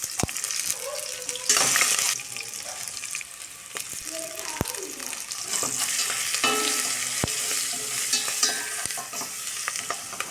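Malabar spinach fruits fry and get stirred in a pan, giving a steady close sizzle with scraping stir strokes and a few sharp utensil clinks throughout, with no talk.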